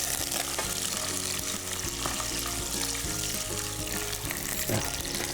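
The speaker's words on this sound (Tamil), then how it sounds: "So I think oil is heat, so I'm going to add this garlic." Garlic paste fries in hot oil, giving a loud, dense, unbroken sizzle with a spoon stirring through it, close and steady from start to finish.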